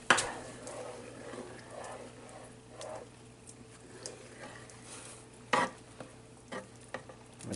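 Beef stroganoff sauce bubbling and cooking down in a pan, a low steady sizzle broken by intermittent stirring scrapes and a few sharper knocks of a utensil against the pan.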